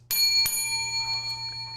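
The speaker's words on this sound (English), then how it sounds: "It's the loudest that bell has ever been." A bell rings with two sharp strikes close together, its bright metallic tone ringing on and slowly decaying, clear and alone over a low steady hum in a sports talk show studio.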